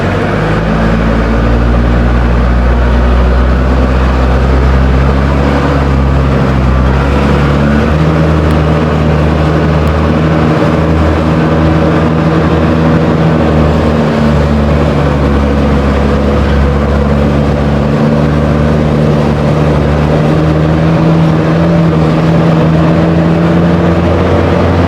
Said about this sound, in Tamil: ஒரு லோட் கியர் தான் போட்டு போகுது